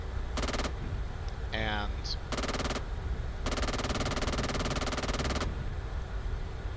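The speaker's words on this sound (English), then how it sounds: "you can switch to manual fire to operate the gun" Rapid automatic gunfire from a vehicle-mounted gun in a video game, fired manually in three bursts: a short one, a second short burst, then a longer sustained stream, loud and close over steady engine drone, with a brief spoken word.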